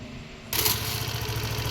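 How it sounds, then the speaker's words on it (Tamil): A BS6 vehicle engine with altered fuel pump wiring starts up abruptly after a moment of quiet, then settles into a steady, close, rhythmic idle. "வண்டி ஸ்டார்ட் பண்ணிட்டோம்"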